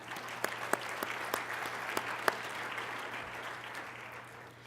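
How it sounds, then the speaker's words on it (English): A conference audience applauding its speakers, a dense patter of many hands clapping at a steady moderate level that fades slightly toward the end, with no voices over it. "So a big round of applause for our speakers"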